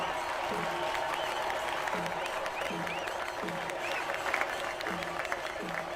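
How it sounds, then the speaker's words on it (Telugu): Applause from an audience at a team game event, steady dense clapping filling the clip with crowd noise, while a voice talks over it with rhythmic spoken phrases. "బాగా చప్పట్లు కొట్టండి."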